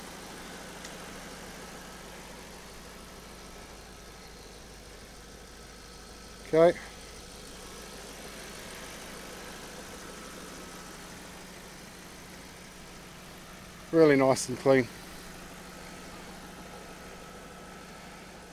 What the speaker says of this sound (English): I should have turned the aircon off because it's making too much, you know, extra noise for the camera